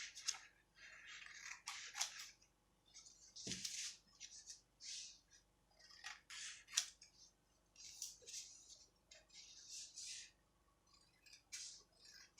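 Scissors snipping through fabric while cutting a shoulder-dart bustier pattern, a quiet series of short crisp cuts in irregular bursts, with no voices.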